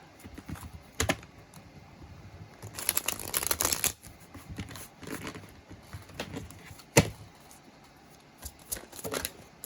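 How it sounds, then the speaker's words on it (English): Tarot cards handled and bent straight, giving scattered papery rustles and flicks with a louder burst of riffling in the middle and a sharp snap near the end, close and fairly quiet. "Trying to take the bend out of the cards."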